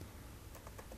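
Quiet, quick keystrokes on a computer keyboard as an email address is typed into a registration form, a soft run of clicks under steady background hiss.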